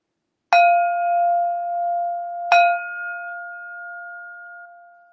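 A meditation bell is struck twice, about two seconds apart, each strike leaving a clear, sustained ringing tone that decays slowly and overlaps into the next in an otherwise silent space.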